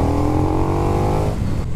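A 2022 KTM 1290 Super Duke EVO motorcycle engine revs loud and close, a steady throaty drone that holds high and then drops off near the end.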